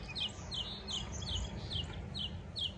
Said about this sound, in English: See, I told you the birds are loving it out here today.